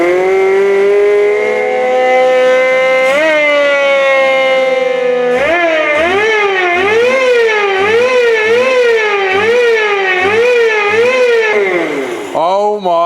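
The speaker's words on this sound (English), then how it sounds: "that is the loudest supercharger I've ever heard in my life, and it's so small" Tiny $100 Temu supercharger fitted to a miniature truck, screaming with a loud, piercing whine that climbs steadily in pitch, then warbles up and down in rapid repeated surges as the engine revs, close and dominant.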